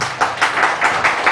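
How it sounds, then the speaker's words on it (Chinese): An audience claps quickly and evenly for a brief moment, a few close, crisp claps in a steady rhythm. "掌声一下"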